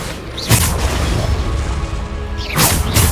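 Bombarda blasting spells exploding in Hogwarts Legacy, two loud booming blasts with whooshes about two seconds apart over a dense, constant rumble of magical combat.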